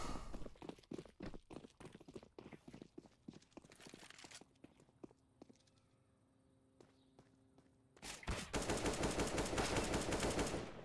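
Negev machine gun fire in CS:GO competitive play, scattered shots and short bursts up front, a lull, then a long sustained loud burst of continuous automatic fire at the end.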